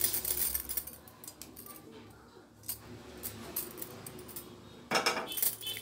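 Roasted moong dal (yellow split gram) is tipped into a pressure cooker for varagu rice ven pongal, giving scattered clinks and a rattling pour against metal, with a louder burst of dry grains near the end.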